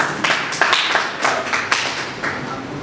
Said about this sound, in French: Applaudissements pour Kaki Akiwa.